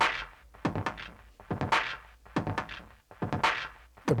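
A heavily distorted electronic beat with punchy, thudding hits in a steady looping groove, gritty modulated texture on each hit, loud and alone without talk.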